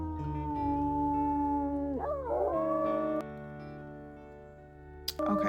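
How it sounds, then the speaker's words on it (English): Wolf howl in the video game WolfQuest: one long, sustained tonal howl that bends and wavers in pitch midway, then fades out and ends with a brief sharp click. "I think we will go ahead and howl on this."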